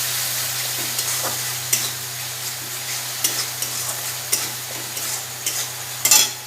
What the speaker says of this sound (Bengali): এবার পরিমাণ মতো নুন দিয়ে দেবো আর একটু ভালো করে কষিয়ে নিচ্ছি